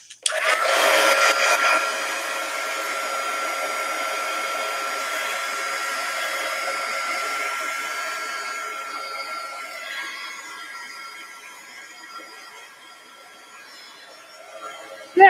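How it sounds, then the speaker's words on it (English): A heat gun blows steadily to dry artwork during a painting session, a loud, close whooshing hiss that holds for most of the time, fades toward the end and cuts off with a click. "Heat gun alert."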